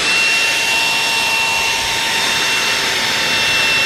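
A leaf blower vacuum runs outdoors while clearing fallen autumn leaves, a loud continuous whine and roar holding steady without pause.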